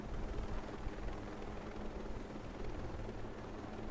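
A helicopter flies in a PS4 video game, its rotor and engine making a steady, dense, rumbling drone that holds at an even loudness throughout with no talking.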